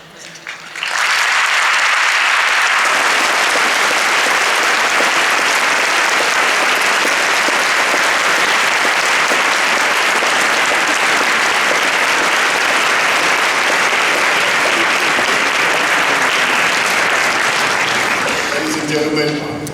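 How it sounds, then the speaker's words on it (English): A long, loud round of audience applause fills the room after the Willem C. Vis moot court final hearing of 2018, Cambridge versus HSE Moscow. The dense clapping starts quickly and holds steady for nearly twenty seconds before tapering off. "the round of applause we've just heard demonstrates what an excellent hearing this was"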